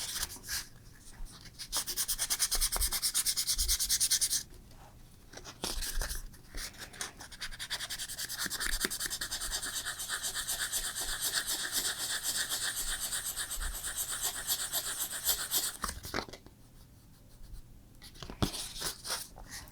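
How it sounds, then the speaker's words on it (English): Steady rasping sandpaper strokes scrub back and forth close up over leather filler on a leather repair, with brief pauses between bursts of rubbing. "try to keep the sanding as concentrated as possible"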